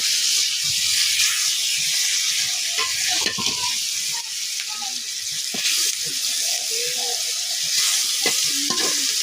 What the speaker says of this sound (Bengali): এবার আমি লবণ আর হলুদে মাখিয়ে রাখা মাছ আর আলুগুলো লাল লাল করে ভেজে নিব